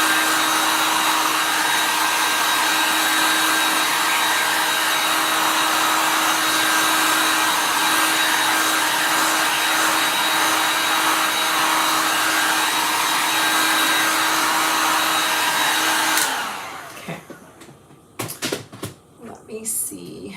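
A hair dryer blows loudly and steadily over chalk artwork for about sixteen seconds, then shuts off, followed by faint handling sounds and brief talk.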